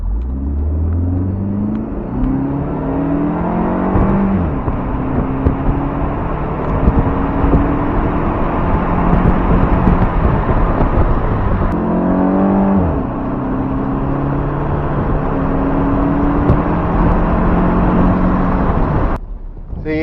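A turbocharged PT Cruiser with its airbox silencer removed drives on an empty highway: a loud, close, steady engine drone that rises and falls with throttle changes, and a brief airy turbo whoosh as it lets off.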